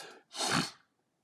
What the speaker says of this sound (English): bless you. My first online sneeze.